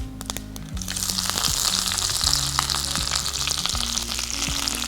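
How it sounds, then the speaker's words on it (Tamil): Mustard seeds and curry leaves crackle and sizzle in hot oil for a tamarind rice tempering, a steady bright hiss with scattered pops, close and moderately loud, over a low background hum. "ஸோ கடுகு பொரிஞ்ச கையோட இதில் கருவேப்பிலை சேர்த்துக்கலாம்."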